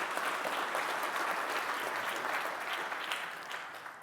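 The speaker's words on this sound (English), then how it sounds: "It's okay to clap." Live audience clapping steadily at a Facebook Workplace presentation, a dense broadband patter that holds for about four seconds and tapers slightly at the end, with no talk over it.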